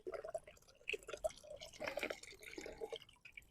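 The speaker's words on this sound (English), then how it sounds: "Now the problem with the fountain is the water will blow out and I'll have to top it up" Water from a solar-powered pebble pool fountain splashes and drips steadily, a soft irregular patter of droplets landing in the pool, fairly close and alone without talk.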